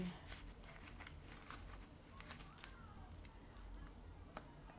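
A tarot deck being shuffled during a card reading, giving soft, faint riffling and slapping card sounds in irregular bursts, close to the mic in a quiet room.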